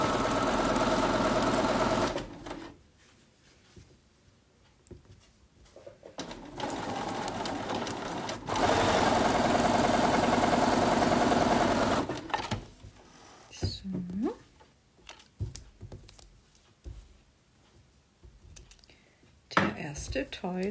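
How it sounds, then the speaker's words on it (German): A sewing machine stitches across the seams of a quilt block in loud, steady whirring bursts of a few seconds each, broken by quiet pauses and small handling clicks. "im Normalfall hüpfen jetzt die Nähmaschinen da einfach drüber"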